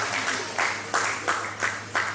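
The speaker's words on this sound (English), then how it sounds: "don't stop clapping until the video starts" Audience applause at a valedictory lecture: a steady wash of many hands clapping, swelling in several rhythmic surges over about two seconds with no talk.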